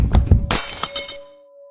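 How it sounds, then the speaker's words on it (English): A sharp glass shatter follows a couple of dull thumps, bursting into a bright spray of falling shards that tinkle briefly before a faint lingering ring fades out. "The sound of breaking glass wakes you in the middle of the night."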